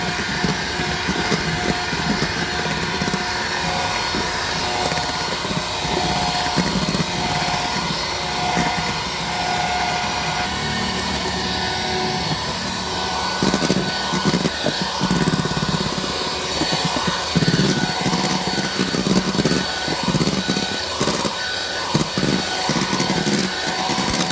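An electric mixer runs steadily at speed 5 while beating the batter for a Palembang-style lapis legit layer cake, giving a continuous whirring motor drone with a faint rhythmic churning that carries through the whole clip without speech.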